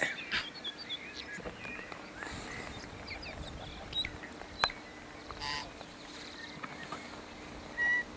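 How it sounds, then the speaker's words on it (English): Scattered bird calls and chirps in New Zealand, mostly faint and distant, over a steady outdoor background hum with occasional sharper tweets. "You can hear the birds through here, alright."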